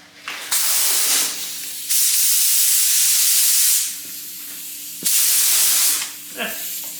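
A paint spray gun atomizing thick polyurethane drawn from a strainer-lid cup, letting out three long, loud, steady hissing bursts separated by brief gaps with faint handling noise.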